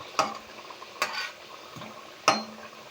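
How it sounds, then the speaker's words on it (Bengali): Wheat flour biscuits fry in oil over a medium flame with a faint, low hiss. Three distinct clinks of a utensil against the pan punctuate it as the biscuits are turned. "মিডিয়াম ফ্লেমে বিস্কুটগুলো ভাজতে হবে"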